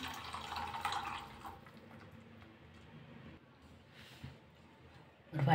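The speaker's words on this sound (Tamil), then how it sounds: "தண்ணி சேர்க்குறேன் கொஞ்சமாக." A little water is poured into an egg masala gravy mixed with yogurt, a short splashing pour in the first moments that fades to quiet, faint dripping and soft kitchen noises.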